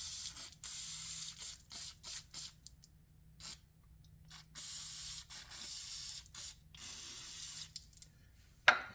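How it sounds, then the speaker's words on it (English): Brake cleaner is sprayed from an aerosol can onto the front brake calipers of a 2012 Ford Focus, a series of loud hissing bursts of varying length separated by brief pauses, close up in a quiet garage. "So I'm just spraying that with some brake cleaner."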